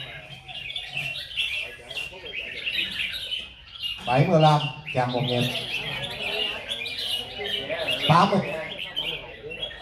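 Red-whiskered bulbuls sing at a bird song contest in Binh Duong, bright chirping phrases rising in bursts over steady background chatter and a voice announcing scores.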